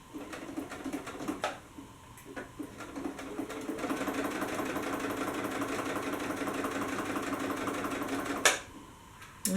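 A sewing machine stitches a curved L-shaped seam on paperbag pants fabric, starting with short bursts, then running steadily and close for several seconds before a sharp stop.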